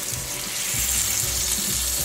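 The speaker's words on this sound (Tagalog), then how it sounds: "Lagyan ng tubig." Tap water pours into a pan of sizzling chicken being cooked with soy sauce for pansit bihon, a steady rushing pour over frying, close and fairly loud.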